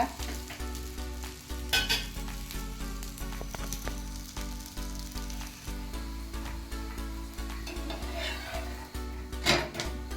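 Dill greens sizzle and fry in a pan for akki rotti while a spoon stirs them, with repeated scraping clinks against the pan over a steady close sizzle.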